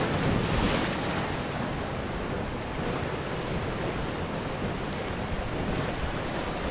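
Extreme sea waves crash steadily against a wild Scottish coast in heavy rain, a loud, continuous roar of surf and wind buffeting close by with no pauses.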